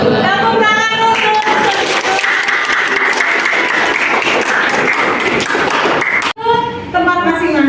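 Classroom applause from students in a mathematics lesson, a dense burst of clapping lasting several seconds and filling the room, with a teacher speaking before and after it.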